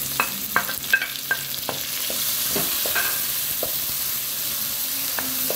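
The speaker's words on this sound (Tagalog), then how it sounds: "Haluin lang po natin siya ng haluin para hindi po masunog yung bawang." Onion, garlic and tomato sautéing in a pan for chicken pochero, a loud continuous sizzle with sharp stirring clacks of a utensil early on, close and steady, no voices.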